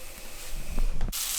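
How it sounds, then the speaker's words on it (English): Avocado oil cooking spray, a short near hiss bursting out loudly at the end after some kitchen handling noise, in a home kitchen where shrimp and tortillas are cooking. "Throw a little avocado spray."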